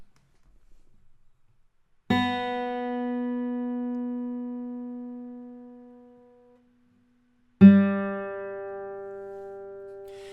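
Two plucked guitar notes, each ringing out with rich harmonics; the first sustains and slowly fades, the second starts after a long pause.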